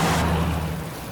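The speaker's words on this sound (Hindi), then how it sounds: "ऊपर से इतनी बारिश है पूछो मत।" Heavy rain pours down as a dense, steady hiss with a low rumble beneath, continuous and loud through the short stretch.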